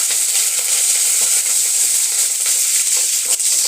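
Spices tempering in hot oil in a kadai for an eggplant gravy make a loud, continuous, close sizzle with a few faint pops, and no voices are heard.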